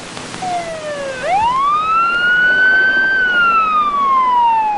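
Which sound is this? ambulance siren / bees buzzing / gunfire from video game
ambulance siren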